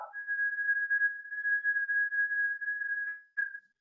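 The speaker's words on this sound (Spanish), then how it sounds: "me voy a colocar por aquí y voy a silbar" A single steady whistled tone held for about three seconds, nearly unwavering, then a short final chirp; clear and isolated with no other sound.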